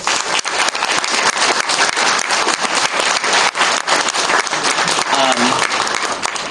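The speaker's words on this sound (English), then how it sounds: "I want to give a round of applause to Barnes & Noble." Loud, dense applause from a bookstore audience at a book tour event in Huntington Beach, continuous crowd clapping throughout with a brief voice near the end.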